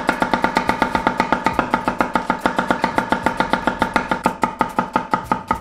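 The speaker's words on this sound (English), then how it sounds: "Now you want to thinly slice the onions." A knife thinly slices onions on a board, making a fast, even run of crisp close taps, dozens of strokes in quick regular rhythm with no talk.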